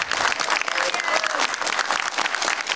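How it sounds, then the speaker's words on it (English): Loud, close audience applause at an Overwatch voice actor panel at Wizard World Cleveland 2020, a dense continuous roar of clapping from a large crowd, with cheering voices mixed in throughout. "let's give a huge round of applause"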